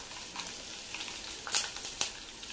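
Asafoetida powder sizzles in a hot pan of oil with split green chilies and curry leaves, a steady soft crackle broken by two brief louder scrapes of stirring.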